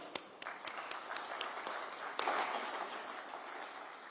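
Audience applause at the launch of BHIM 3.0, a payments app, heard as faint, moderately sized clapping with a few distinct sharper claps and a slight swell midway through.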